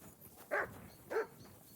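A dog in the video game Kingdom Come: Deliverance 2 gives two short, moderately distant barks about half a second apart over a quiet background.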